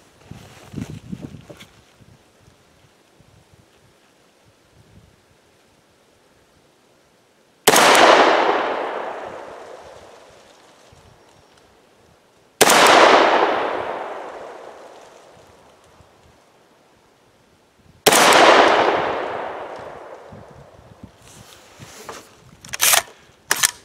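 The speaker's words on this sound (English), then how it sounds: "We're going to shoot that bottom left dot." A 300 Blackout rifle fires subsonic test loads outdoors, three sharp loud shots spaced several seconds apart, each with a long fading echo, plus faint handling noises between.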